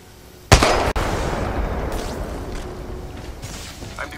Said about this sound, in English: Eat a thermite grenade.